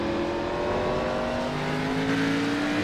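Race car engine at Brands Hatch in the iRacing simulator, a loud continuous drone winding steadily up in pitch as it accelerates down the straight, with no talking.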